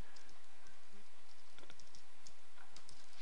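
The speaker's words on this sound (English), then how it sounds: "I can just start typing." Typing on a computer keyboard while working in data integration software, a rapid run of close, crisp key clicks at an uneven rhythm over a steady background hum.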